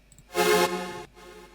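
Two Serum-made saw synth layers play together in a brostep patch as one thick, harmonically rich stab, loud and sustained for under a second before dropping to a softer decaying tail.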